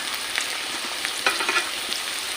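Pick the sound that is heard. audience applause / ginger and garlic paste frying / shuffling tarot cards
ginger and garlic paste frying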